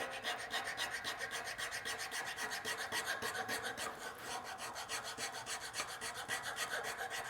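A file rasps back and forth over a wooden tenon in quick, even strokes, a steady rhythmic scraping that continues throughout at a fairly quiet level with no talking.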